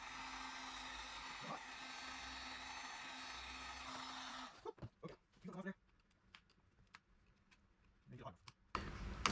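A heat gun blowing on a plastic grille ornament of a 1996 Ram hums with a steady whine for about four seconds, then cuts off, leaving quiet clicks and brief handling noises.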